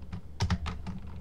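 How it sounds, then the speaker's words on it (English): Keys clatter on a computer keyboard as an activation key is typed in, a quick run of close, soft clicks with a couple of heavier strikes in the middle. "see if we can get numlock going and type this"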